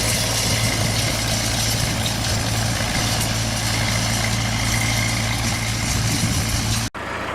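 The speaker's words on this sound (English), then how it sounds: "That was him with his vintage tractor." A vintage tractor engine runs steadily at close range, a loud, even low rumble that continues unbroken before cutting off abruptly just before the end.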